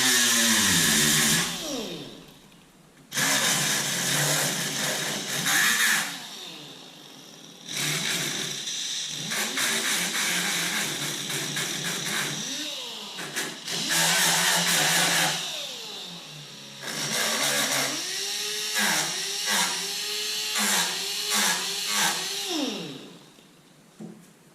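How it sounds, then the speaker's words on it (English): A power sander works on spots of a 1993 Ford Bronco, whining loudly in long bursts that speed up and slow down, cutting out briefly between passes, close by with no talk. "I'm going to start sanding these other spots off real quick."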